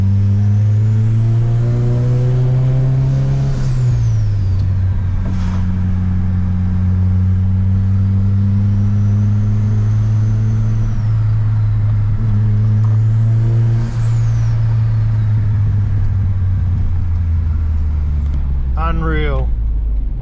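Close, loud car engine fitted with a Garrett turbo, running after long storage, holds a steady idle and then revs rise and fall while a thin, high turbo whistle climbs and fades with each rev.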